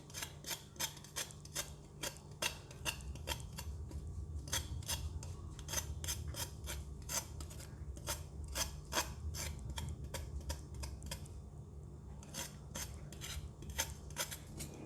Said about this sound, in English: normally for the skin I will just use the knife to scrape it